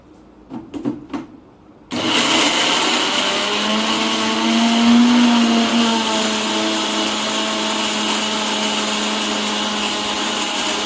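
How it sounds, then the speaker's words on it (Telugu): A mixer grinder whirs loudly and steadily as it blends corn kernels with jaggery, kicking in abruptly after a few brief knocks and running continuously at close range. "మిక్సీ పట్టుకున్నామండి బెల్లం వేసుకొని."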